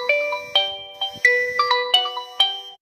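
A phone ringtone plays a bright, clean melodic pattern of about eight chiming notes in quick succession, loud and close, with no talking over it.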